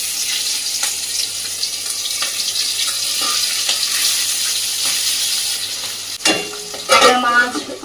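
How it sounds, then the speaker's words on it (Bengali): Tangra fish frying in oil, a loud, dense, continuous sizzle close by, with a few sharp pops and then stronger spattering and clattering near the end. "তো আমি অল্প ট্যাংরা মাছটা ভেজে নেব।"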